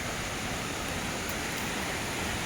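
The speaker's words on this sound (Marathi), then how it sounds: "उंचावरून असं पाणी पडतंय" Steady, dense rushing of water falling from a height at Kapildhara on the Narmada river, a continuous broadband roar with no breaks, heard from fairly close.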